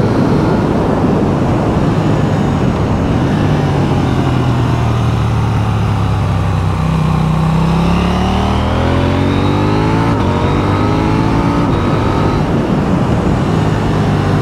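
A KTM 890 Duke R motorcycle engine revs loud and continuous, its pitch rising and falling through gear changes, mixed with heavy roaring wind noise.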